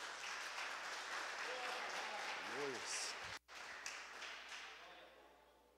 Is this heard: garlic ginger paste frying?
no